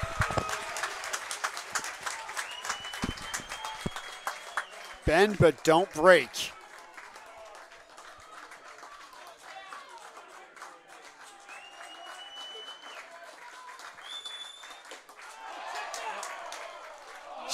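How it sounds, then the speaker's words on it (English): A home crowd at a Hamilton at Guelph baseball playoff game cheers and claps as the batter swings. A broadcaster talks over the sustained crowd noise, and there is a short burst of loud commentary in the middle. "Renaud swings, and listen to this crowd."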